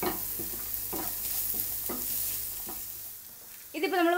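Chili, pepper and garam masala powders stirred and roasted in a hot pan for a Kerala sardine masala, with repeated scraping stirs over a soft sizzle, followed by a brief high-pitched squeak near the end.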